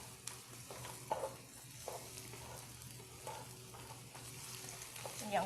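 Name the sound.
onions being stir-fried in a pan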